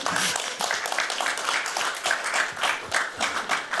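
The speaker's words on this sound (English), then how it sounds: "Round of applause for Daniel." A conference audience gives a round of applause after a keynote talk, with the clapping close by and uneven, loudest in the nearby claps.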